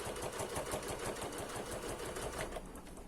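Sewing machine stitching fabric along an edge for an appliqué pot holder, a fast, steady mechanical rattle of needle strokes up close, slowing slightly near the end.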